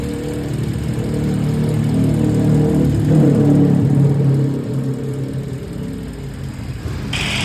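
A Toyota Avanza, just serviced with its brake fluid bled and ABS unit declogged, drives on a test run, its engine humming and the tyres rumbling steadily up close, easing off slightly toward the end.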